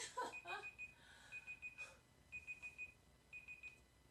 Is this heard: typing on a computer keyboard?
no